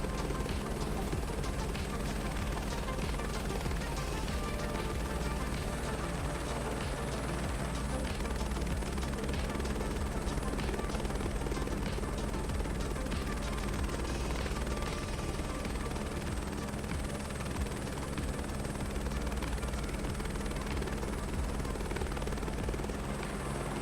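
A steady, continuous helicopter rotor and turbine drone in Microsoft Flight Simulator 2024 on a flight over the Grand Canyon near Hoover Dam, droning evenly throughout with faint talk occasionally over it.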